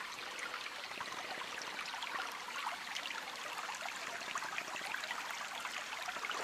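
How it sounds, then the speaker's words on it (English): A creek spills over ripples and little waterfalls, giving a steady, close bubbling and trickling wash with no voices. "Lots of ripples, little waterfalls, worn away shoreline here."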